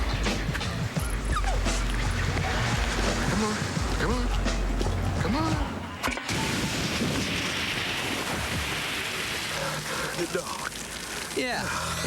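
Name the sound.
dog barking and whimpering in a TV commercial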